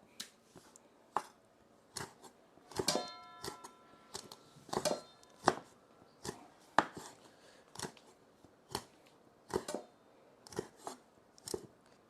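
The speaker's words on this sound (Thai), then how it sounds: "ซอยตะไคร้ลงไป" Knife slicing lemongrass on a cutting board for a spicy stir-fried eel dish, a steady series of sharp, close crisp chops, roughly one per half second with uneven spacing, no talking.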